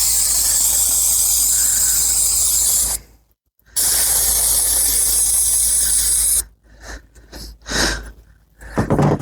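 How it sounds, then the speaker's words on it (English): Brake cleaner sprays from an aerosol can onto the EGR valve of a Detroit diesel engine, a steady loud hiss that cuts out briefly, resumes, then breaks into several short sputtering bursts near the end. "Let's hit it with a little bit more brake cleaner."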